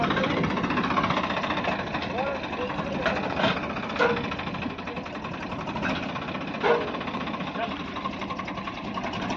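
A heavy Massey or Swaraj farm tractor engine runs with a harrow, a loud, steady, knocking diesel drone close by, with a few thumps and a voice over it.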